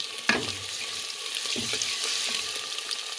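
Ginger-garlic paste fries with onion and green chili in a pan, a steady hissing sizzle with a sharp clatter at the start and another stir partway through, close and even with no talking.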